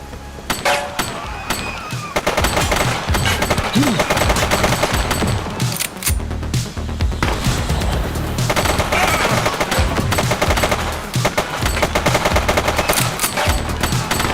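Loud, sustained automatic gunfire in The Precinct video game, with dense rattling bursts and rapid shots running almost continuously, brief gaps between volleys, and faint voices mixed underneath.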